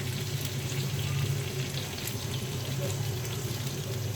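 Pieces of katla fish fry in hot oil in a pan, giving off a steady, low sizzle and crackle that runs unbroken and moderately quiet throughout.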